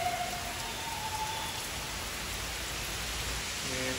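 Steady rain falls through the woods, a dense continuous hiss of drops on leaves and ground, loud and even throughout with no voices.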